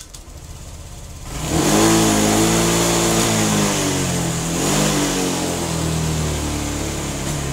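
A car engine revving hard at full throttle, opening with a lower steady drone, then surging loud and holding a sustained, rising mechanical roar with slight wavering pitch as it pulls, close and continuous with no voices.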